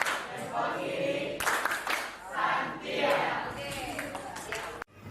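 A classroom of students does the rhythmic 'tepuk hebat' clapping chant in an Indonesian lesson, with bursts of group claps in a steady pattern under loud chanting voices, ending abruptly.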